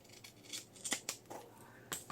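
Scissors trim a piece of steampunk ephemera craft material with several short, close snips in an uneven rhythm, quiet and clear with no talking.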